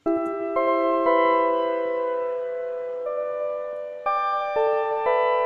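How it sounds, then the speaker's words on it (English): A clean, bell-like synthesizer plays a slow melody of sustained notes, each tone clear and ringing, with no voices. "He's a great lead synth."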